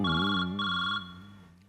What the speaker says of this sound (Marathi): वसाडीचा फोन आला